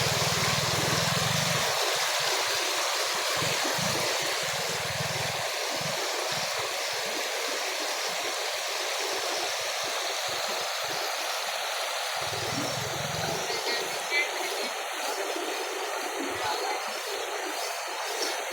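River flowing near Santo Nino in Tanay, Rizal, a steady broadband rush of moving water, loud and continuous with occasional low rumbles underneath.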